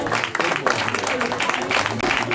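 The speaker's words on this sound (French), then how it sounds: "on peut applaudir les 3 médaillés avec Karine Cessé, championne de France" Audience applause for three medallists at a French championship masters awards ceremony, a steady dense wash of clapping with voices mixed underneath throughout.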